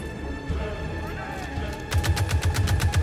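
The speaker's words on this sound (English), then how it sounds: "I love the sound of the weapon as well. They sound kind of blunt, strong, but it's still a bullet." Blunt, heavy weapon gunfire from a sci-fi shooter game, Squadron 42, bursting in after a quieter stretch of background sound and repeating in a steady rapid rhythm of strong, close shots.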